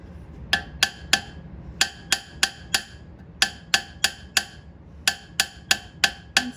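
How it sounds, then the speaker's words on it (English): Flat hammer tapping metal tubing, sharp ringing strikes in quick groups of three to five with brief pauses between, close and loud. "this flat hammer also isn't going to leave as much of a pattern on the metal."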